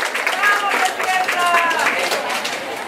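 An event crowd at a Mercadito Solidario gives steady applause for Dra. Araceli García of Argentina, a dense wash of clapping that holds throughout, with voices and a few whistles or shouts mixed in.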